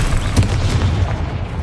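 A Confringo spell explosion in the video game Hogwarts Legacy lands as one loud, close, booming blast that rolls away over a second and a half.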